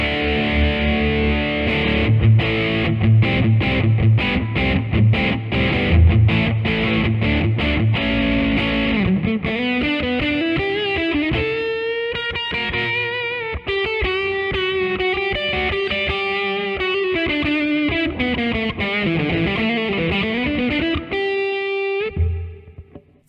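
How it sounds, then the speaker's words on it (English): An Epiphone Riviera P93 Custom on the bridge pickup through an OCD overdrive pedal, with a bright, gritty tone, chugs rapid muted chords, then moves into sustained bends and melodic lines before cutting off. "let's get to some dirty tones. I'm gonna go to the bridge position without the neck on"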